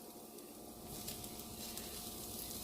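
Browned garlic sizzles quietly in a pan for Cajun pasta jambalaya, a steady soft hiss of frying that swells a little partway through, with no voices over it.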